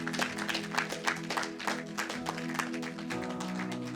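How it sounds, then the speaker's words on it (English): Congregation applauds in a church for a person named Ruben, steady rhythmic clapping with a musical drone underneath, moderately loud and sustained throughout. "So one more big round of applause for Ruben"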